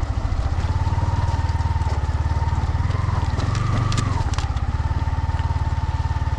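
A motorcycle rides through meltwater running out from under snow on Kunzum Pass, its engine chugging in a steady close rhythm with brief revving and some splashing.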